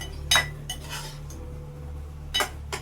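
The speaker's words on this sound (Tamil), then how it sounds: "எங்கள் அம்மா வந்து சைடில் அப்படியே பாத்திரம் கழுவிட்டு இருக்காங்க." Metal pots and cutlery clink in a few scattered, fairly faint knocks as a mother washes dishes nearby, over a steady low hum.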